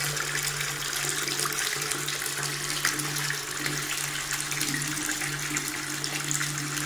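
Drinking water running steadily from a tap in Algeria, a constant hissing, splashing flow with a low steady hum underneath, close and unbroken throughout with no talking.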